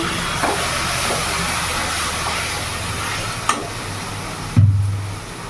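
Water added to frying spice paste in a pan, producing a steady hiss and sizzle with a sharp burst near the end and a low hum underneath.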